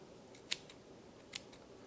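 Two crisp, quiet snips of scissors trimming the ends of Bonnie cord fly-tying material, spaced about a second apart over a low background hum.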